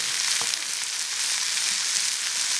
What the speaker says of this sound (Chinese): 看辣椒比较多，给它炒一下。